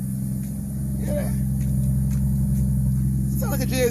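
Toyota 1.5JZ engine swapped into a BMW E39 idles steadily at close range, a constant low droning hum with a few faint clicks and a brief louder burst near the end.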